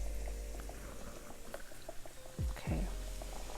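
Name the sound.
fish frying in hot skillet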